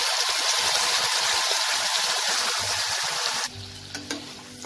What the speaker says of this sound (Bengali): আমি মিক্সিতে পেস্ট করে রাখা মশলাটা দিয়ে দেবো